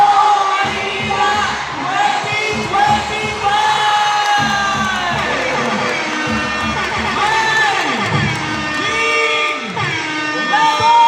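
A large crowd at the Palarong Maynila 2025 sports event shouts and cheers loudly and continuously, with whoops, yells and children's voices blending into a dense roar close to the listener.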